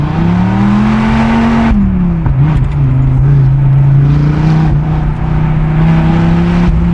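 A Dodge Viper's big engine revs hard and accelerates, a loud rising drone that dips briefly as the driver shifts, then climbs again in a steady, close roar.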